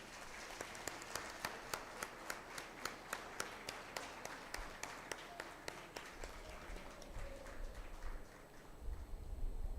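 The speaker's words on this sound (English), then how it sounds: "Please give a big round of applause for all of them." Applause for awardees at a university convocation, with distinct claps from a hall audience spreading into a broad, moderately faint wash that thins toward the end.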